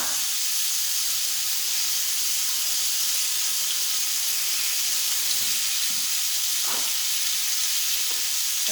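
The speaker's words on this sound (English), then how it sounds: "And we hear that sizzle." Three rosemary garlic lamb chops sizzle loudly in a frying pan, a dense, steady hiss that holds throughout, with a couple of faint clinks and no voices.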